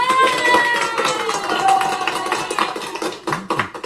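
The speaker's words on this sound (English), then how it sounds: "we give Howie a round of applause" Round of applause for Howie Hobart from a small group, dense patter of claps with some whistle-like tones and voices mixed in, fairly close and steady before thinning into scattered taps at the end.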